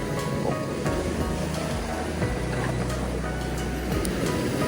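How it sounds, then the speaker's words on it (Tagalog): Steady rushing surf and wind noise fill the scene, a broad continuous wash of strong waves heard outdoors on a Danish shore while fishing, with faint background murmur. "Lakas ng alon guys."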